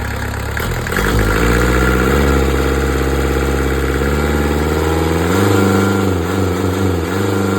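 A Kubota V1305 four-cylinder 28 hp diesel engine idles close by, a steady low throb that settles in after a brief start, with a slight rise in revs near the end and no talking.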